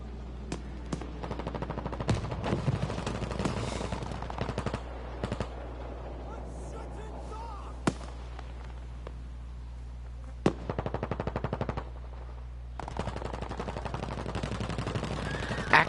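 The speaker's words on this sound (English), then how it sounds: "Silt made the attempt to take a couple pot shots in on Gusket there" Bursts of rapid automatic gunfire and scattered single shots from a competitive first-person shooter match, loud and sharp, coming in clusters with short gaps between volleys.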